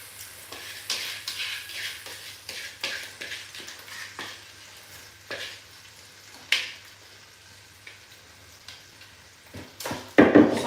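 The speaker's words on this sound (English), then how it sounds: "And I'm going to fry the rice." Rice frying in a pot for Nigerian home cooking, with a steady soft sizzle under repeated scraping clicks of a spoon stirring, plus a few louder knocks against the pot near the end.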